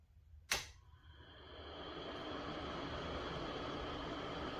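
Tech Drive very-quiet 70 CFM, 2.0 sone bathroom ventilation exhaust fan switching on with a sharp click, then a soft, steady airy whir that builds slightly and holds as a faint hum.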